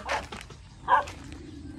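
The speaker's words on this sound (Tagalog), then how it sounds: "Ang daming bagong aso, di ko kilala." Dogs on a farm give a few short barks and whimpers, close by, with quiet gaps between them.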